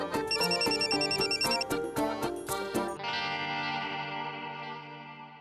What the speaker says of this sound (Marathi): आईचा फोन.